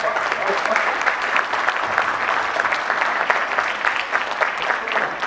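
Audience applause at a corporate summit on IT/ITES collaboration in India, a loud sustained wash of many hands clapping that stays even throughout, with a voice faintly audible beneath it.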